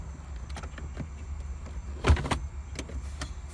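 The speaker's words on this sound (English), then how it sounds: "So, if I move the gear back" Gear lever of a Honda car being moved back out of park, a short mechanical clunk and slide in the middle of an otherwise quiet cabin, close and brief.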